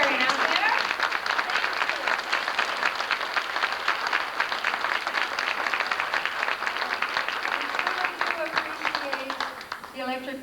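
Sustained applause from a large audience at a 1989 St. Patrick's Day gathering in Orofino, Idaho, honoring the Rotarians. Dense, even clapping fills about ten seconds and fades near the end.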